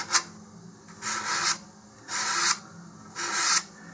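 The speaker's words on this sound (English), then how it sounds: "take some fine sandpaper and along the line here where those fins are going to be," Fine sandpaper rubbing along a glassine-coated Estes Olympus model rocket body tube to roughen it for fins, four short raspy strokes in an even rhythm, close and fairly quiet with no talk.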